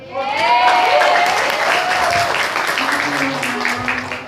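Applause from a small audience following a thesis defense presentation, fairly loud, steady clapping that fades slightly toward the end, with voices talking over it.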